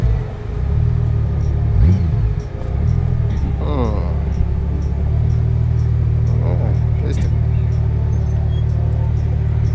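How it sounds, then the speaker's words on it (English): Cars driving away along a road after July 4th, a continuous rumbling engine and tyre noise with a couple of passing vehicles swelling and fading, while people talk quietly nearby. "Yeah, cars are leaving, so they must have blocked off the roads back here somewhere."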